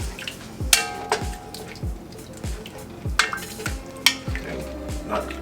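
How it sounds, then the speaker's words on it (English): A utensil scrapes and stirs orzo in a pan in repeated rhythmic strokes, with soft sizzling and wet bubbling underneath and a few sharper clinks against the pan. "give that pan a good scrape on the bottom"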